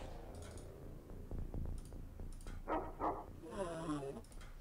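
A dog barks in Open X-Com, the turn-based strategy game, a rapid series of sharp barks and yips mixed with a short whimper. Game sound effects also play.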